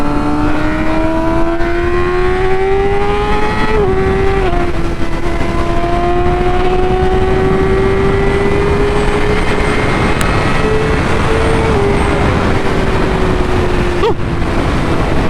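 A Kawasaki Z800R motorcycle ridden onto a highway, its engine droning steadily and loud with a rising and falling pitch as it shifts, under continuous heavy wind rush and no talking.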